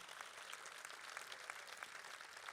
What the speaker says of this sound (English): I'd like a round of applause for Henrietta Wilkens for what she's done for Seattle